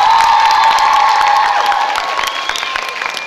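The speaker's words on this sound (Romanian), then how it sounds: "Întâmpinăm cu un ropă de aplauze." Audience at a school freshmen's ball at a technical college in Focșani claps and cheers loudly, a dense steady burst of applause with whoops and shouts, slowly easing off over a few seconds.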